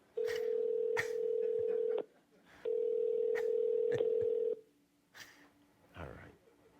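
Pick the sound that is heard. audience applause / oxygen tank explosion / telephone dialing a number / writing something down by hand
telephone dialing a number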